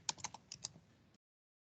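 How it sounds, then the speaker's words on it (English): Keystrokes on a computer keyboard as a Redux DevTools extension name is typed, a quick burst of about eight close, crisp clicks over roughly one second, then silence. "Let's type it here."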